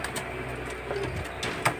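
Pigeons, golden and Kamagar breeds kept as pairs, cooing softly nearby in a steady low murmur, with a few brief clicks and rustles.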